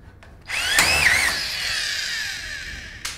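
A power drill drives wafer head screws into a drywall stud, revving up with a rising whine and then holding a loud, steady grinding spin for a few seconds close by.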